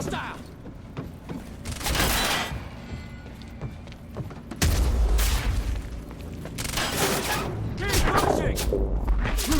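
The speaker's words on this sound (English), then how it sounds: "Shooting!" Gunfire and booming blasts from the shooter game Quantum Break come in loud bursts of repeated shots and heavy explosions, close and intense, with voices shouting over the combat.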